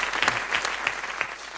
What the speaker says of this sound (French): on vous applaudit quand même